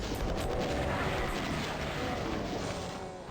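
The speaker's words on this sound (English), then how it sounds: "So let us mow them down with the Tommy gun" Tommy gun firing in Doom II, a dense continuous roar of rapid automatic shots blending with the game's background noise, loud and unbroken for the whole stretch.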